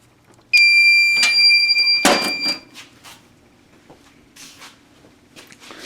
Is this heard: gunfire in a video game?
no